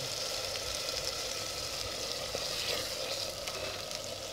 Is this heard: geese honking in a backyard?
no